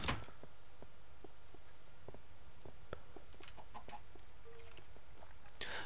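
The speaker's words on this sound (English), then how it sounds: "Why is there a chicken down here?" Minecraft chicken clucking in a cave-like setting, several short sharp clucks scattered irregularly over a steady low ambient hum, fairly quiet and without talk.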